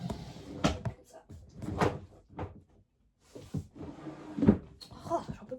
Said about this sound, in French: J'arrive pas à fermer le tiroir.